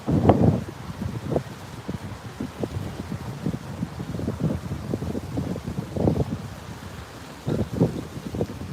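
Gusty wind on a Fort Lauderdale beach at sunrise buffets the microphone in low rumbling bursts, with the faint wash of high-tide surf beneath, uneven and continuous throughout.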